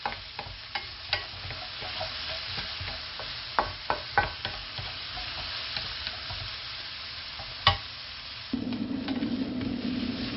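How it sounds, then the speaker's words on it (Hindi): Onions being lightly softened for a chicken pastry filling hiss steadily in a pan, with scattered clicks and scrapes of stirring. Near the end a louder burst of frying takes over. "हमने प्याज को थोड़ा सा हमने भुना है, ज़्यादा नहीं, हल्का सा ये नरम हो जाए।"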